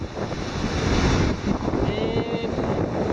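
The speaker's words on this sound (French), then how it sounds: "il y a du vent," Wind and surf at a beach in Ireland: a steady, loud roar of breaking waves mixed with heavy wind buffeting the microphone, continuous throughout and with no clear speech.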